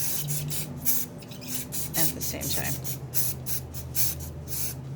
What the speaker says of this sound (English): just spray them all over the tub